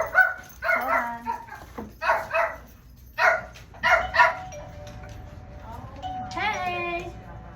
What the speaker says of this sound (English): And of course my dogs are gonna go nuts.